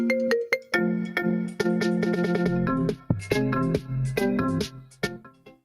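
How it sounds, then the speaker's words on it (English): A phone ringtone plays a bright, melodic electronic tune of quick repeating notes, loud and close, announcing an incoming call with no talking over it. "We're mesmerized by a phone call."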